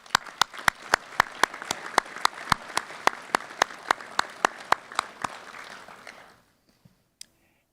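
Applause at a police academy graduation ceremony for a recruit class, a steady rhythm of loud, sharp, unison claps that fades out toward the end, leaving near silence with one stray clap.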